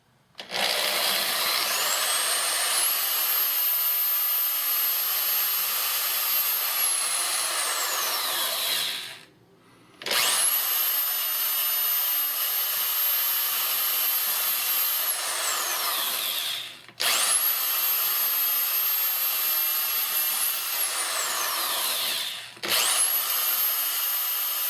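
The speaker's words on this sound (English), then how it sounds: "I want to make sure that my drill is straight up, at all angles." An electric drill bores a hole into a wooden guitar body built from 2x4s, with three long, loud, steady whining runs separated by short stops and no talking.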